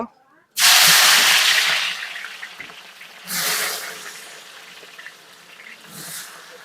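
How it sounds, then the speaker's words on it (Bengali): Chopped onions hit hot oil for a broiler chicken curry and burst into a loud, close hissing sizzle that slowly settles, swelling again twice as they are stirred. "আমার বড় ভাই পেঁয়াজগুলা ঢেলে দিল তেল গরম হওয়ার পরে"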